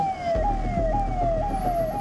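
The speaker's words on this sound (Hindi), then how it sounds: "इस ट्रैफिक जाम में एक एम्बुलेंस भी फंस गई" An ambulance stuck in a traffic jam on the DND flyover between Noida and Delhi wails its siren in repeated falling sweeps, loud over the steady rumble of idling traffic.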